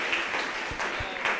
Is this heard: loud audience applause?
yes